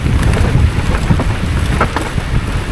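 Strong wind buffets the microphone on an exposed Scottish enduro mountain-bike trail, a loud, continuous rumbling roar with no clear pauses.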